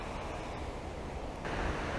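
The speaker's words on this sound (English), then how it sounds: "I've worked my way up towards this waterfall." Water rushes steadily at a waterfall on the Ingleton Waterfalls Trail, a continuous broad roar with no voices, growing slightly stronger near the end.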